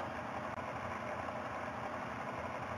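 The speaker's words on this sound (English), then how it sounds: "Please turn on the engine." Steady engine hum of a virtual lathe machine idling in a VR training simulation, a continuous, even drone with no talk over it.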